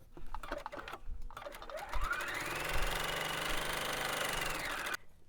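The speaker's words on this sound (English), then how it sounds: "you can sew this one from the front" A sewing machine stitches a quilted table runner with a steady mechanical whir that starts after a few light clicks. It runs close and continuous for about three seconds, then stops abruptly.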